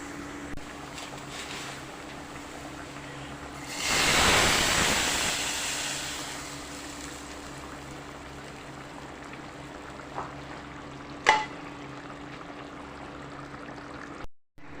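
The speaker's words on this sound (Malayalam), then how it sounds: "ഇത് നമുക്ക് ചട്ടിയിലേക്ക് ഒഴിക്കാം കേട്ടോ" Hot coconut oil tempering with onions is poured into a clay curry pot of okra curry, giving one brief, loud sizzling burst that fades over a couple of seconds, followed by a quiet background with a few faint clicks.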